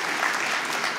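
Brief burst of audience applause at a New Year's greetings ceremony, dense clapping heard for about a second.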